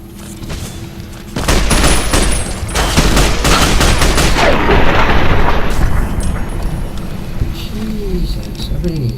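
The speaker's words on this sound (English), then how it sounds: "I don't know what they're shooting." Gunfire rages in Fallout New Vegas, a dense, loud fusillade of shots with booming blasts starting about a second and a half in and continuing steadily to the end, while a voice talks over the battle.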